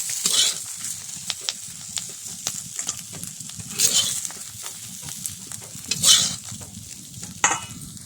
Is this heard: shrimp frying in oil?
yes